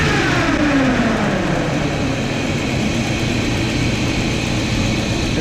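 An old Chevy 454 big block engine in a motorhome idles loud and close, a steady low rumble whose tone slides slowly downward as it settles, with no talking.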